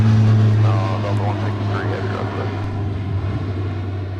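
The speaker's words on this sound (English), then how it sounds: "Pretty smooth touchdown from the Silent Giants, as we like to call the A330." A Delta Airbus A330-900neo heavy jet touches down smoothly on arrival from Amsterdam, a steady engine drone with a faint rising whine, heard from a distance with a commentator talking over it.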